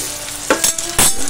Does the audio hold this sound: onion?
yes